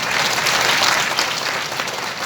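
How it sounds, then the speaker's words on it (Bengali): Loud, steady applause from a meeting crowd honouring a leader, dense clapping sustained throughout without any voices. "ওনার জন্য জোরে হাততালি।"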